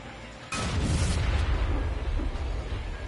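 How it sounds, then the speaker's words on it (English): A loud, close explosion of gas tanks in the video game Far Cry 5 erupts suddenly after a quiet moment, followed by a sustained rumbling roar that fills the rest of the moment. "Did you just blow up the gas tanks for no reason, sir?"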